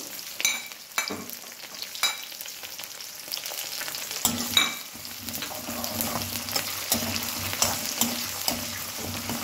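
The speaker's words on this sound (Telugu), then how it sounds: "దీంట్లో కొంచెం వేగానే ఆనియన్స్, పచ్చిమిర్చి వేసుకోవాలి" Onions, green chillies and curry leaves fry in oil, a steady close sizzle with intermittent clicks and scrapes of a stirring spoon, no voices.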